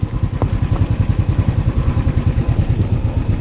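A motorcycle rides slowly across a suspension bridge in Sikkim, its engine throbbing in a steady, close, fairly loud pulse with a faint rattle over it.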